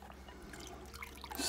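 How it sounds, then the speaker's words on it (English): Dirty water from cleaning a thrift-store find drips and trickles as it is changed out, quiet, scattered droplets building to a brief louder splash at the end. "I'm going to change this water out because pretty gross."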